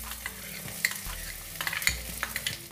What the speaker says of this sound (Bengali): এখন আঁচটা খুব কম রেখেছি। 3 চামচ পেঁয়াজ কোচানো দিলাম